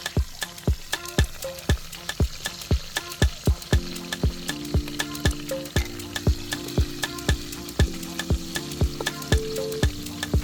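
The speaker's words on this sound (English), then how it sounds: "Add chopped onions and stir for a while." Chopped onions frying with momoni in an okra stew, a steady sizzle punctuated by frequent rhythmic scrapes and knocks of a spoon stirring against the pot, close and fairly loud with no talking.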